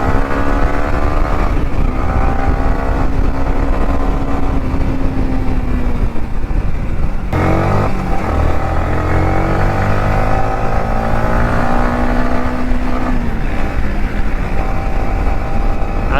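Motorcycles on a fast group ride, engines droning loudly and continuously with rising and falling pitch as they accelerate and shift, under heavy wind rush, close by.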